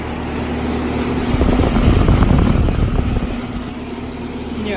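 A 1987 Rheem custom high-efficiency air conditioner, roughly a 4-ton outdoor unit, runs with a loud steady low hum and fan whoosh that swells in the middle before settling back.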